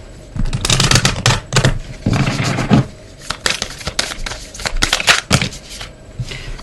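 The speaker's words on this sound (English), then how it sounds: "Okay, I'm gonna shuffle." Tarot cards shuffled by hand during a card reading, a run of dense riffling and scraping bursts with short pauses between them, close and fairly loud, with no talking.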